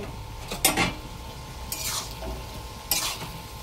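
Potato and ridge gourd coated in poppy seed paste are stirred in a pan, giving three distinct scraping strokes over a low, soft sizzle, close up and with no speech.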